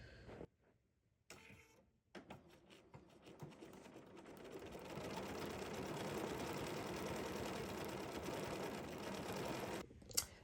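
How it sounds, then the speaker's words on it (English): A sewing machine runs pretzel stitch number 1336, a close mechanical whir that starts in short bursts, then settles into a steady rapid hum for several seconds before stopping abruptly, with no voices. "we're stitching it as designed with our pretzel function engaged"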